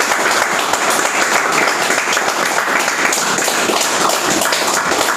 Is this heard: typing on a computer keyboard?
no